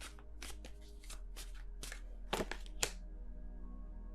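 Tarot cards shuffled by hand in a series of crisp riffling bursts, with a couple of sharper slaps near the middle, close and fairly quiet over a steady background hum.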